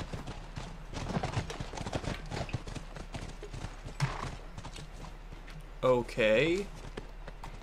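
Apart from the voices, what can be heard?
horses clip-clopping in The Last of Us video game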